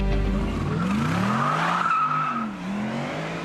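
The 5.4-litre supercharged Mercedes V8 exhaust of a Mercedes SLR roars loudly and continuously, its deep gurgling tone rising and falling with engine revs.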